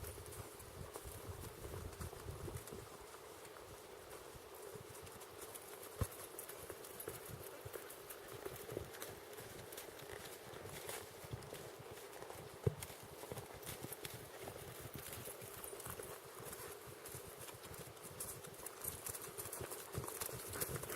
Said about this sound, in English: Good trail riding horse for me.